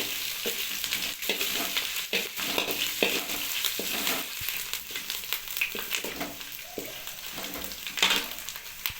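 Ginger garlic paste fries with browned onions in a pan, a steady sizzle under repeated stirring scrapes and occasional clinks of a spatula, close and moderately loud.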